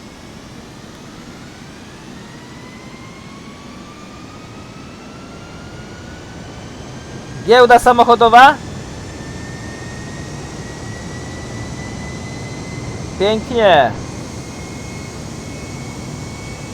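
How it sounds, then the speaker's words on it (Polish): Airplane engine in Microsoft Flight Simulator, a steady drone with a slowly rising tone running through the whole stretch, while people talk briefly in the middle and near the end. "Ciężko się steruje takim samolotem."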